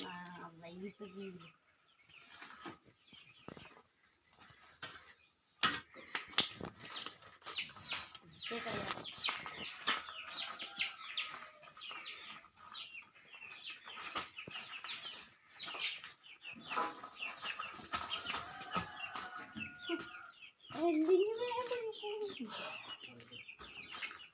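Chickens cluck and squawk close by in bursts, with scattered rustling and clattering around them.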